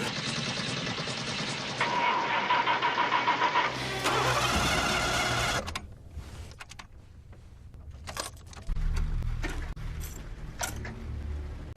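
A car engine cranks repeatedly without catching in a horror-movie scene, bursts of starter whirring separated by pauses, with mechanical clunks and rattles between attempts and no speech.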